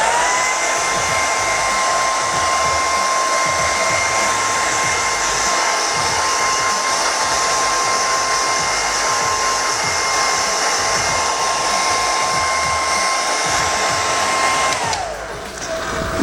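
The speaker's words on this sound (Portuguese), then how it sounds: "Eu vou acelerar com um secador." A hair dryer blows steadily to dry acrylic paint, a loud, constant whirring hiss with a steady whine that holds for about fifteen seconds before switching off.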